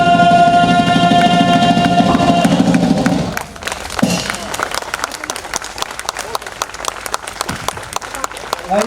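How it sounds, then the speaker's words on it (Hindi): A theatre audience at the close of a Rashmirathi play workshop show breaks into loud, sustained applause for the actors, a dense wash of clapping that thins to scattered claps, with voices mixed in. "इन कलाकारों के लिए जोरदार तालियां।"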